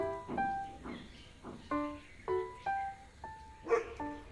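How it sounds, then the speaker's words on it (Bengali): Several dogs bark at a newcomer outside a house in a residential neighbourhood, giving a string of short, sharp barks and yips spaced irregularly, moderately loud with no talk. "নতুন কাউকে এরকম বাড়ির সামনে এসে দাঁড়িয়ে আছে দেখতে পেলেই ভৌ ভৌ এত শুরু করে দিচ্ছে"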